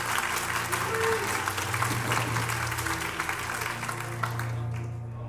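An audience claps at a reenacted gladiator combat bout. The applause is steady and moderately close and lasts several seconds, with voices talking over it and a low hum underneath.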